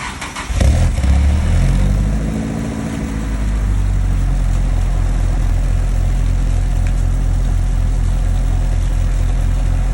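A Nissan S15 fitted with a new aftermarket exhaust fires up with a loud burst, flares briefly, then settles into a steady, throbbing idle close by, with no voices.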